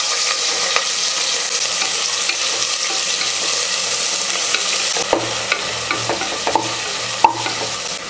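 Onions sizzle and fry in a cooker for chicken biryani, a steady hiss of hot oil broken by scraping stirs and occasional clinks of a spoon against the pot, close and alone.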